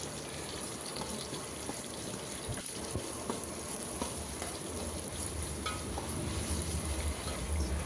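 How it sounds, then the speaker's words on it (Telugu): Ginger garlic paste sizzles with fried onions, green chillies, curry leaves and spices in hot oil for chicken pulao, a steady soft crackle and hiss with no voices. "ఆనియన్స్ ఫ్రై అయిన తర్వాత అల్లం వెల్లుల్లి పేస్ట్ ఇవన్నీ కలిపి బాగా ఫ్రై చేయండి"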